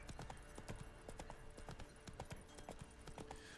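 Horse hooves clip-clop in The Witcher 3, a quick steady trotting rhythm of crisp close hoofbeats repeating throughout, played alone without talk.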